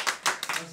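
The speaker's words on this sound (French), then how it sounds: "On applaudit. Bravo Bruno." Brief audience clapping at a French television show, a few quick bursts of hand claps heard close and fairly loud over a very short moment.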